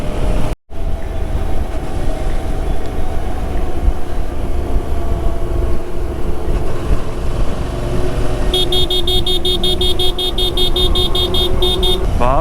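Dense highway traffic on the road from Mumbai toward Delhi, a steady loud rumble of engines and trucks with a cluster of repeated horn toots near the end, no talking.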